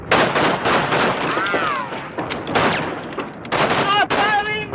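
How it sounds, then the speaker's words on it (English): Gunfire in a 1950s wartime espionage film, rapid loud shots overlapping shouted voices and commotion, with bursts spread across the whole moment. "Stop firing!"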